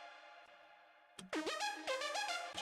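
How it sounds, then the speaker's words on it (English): Stacked synthesizer saw waves give a harsh, ringing buzz: a faint sustained drone, then a louder burst of bright buzzy chords that bend and step between pitches. "But that is a saw wave."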